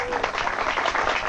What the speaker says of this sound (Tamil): கைதட்டுங்க எல்லாரும்.